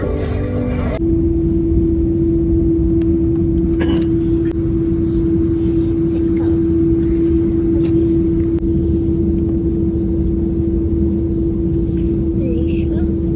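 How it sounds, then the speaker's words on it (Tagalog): An Airbus H125 helicopter in flight, its steady loud cabin drone and rotor hum holding constant throughout, with a strong sustained engine tone running under faint intermittent chatter. "Today, I'm flying on an Airbus H125 helicopter."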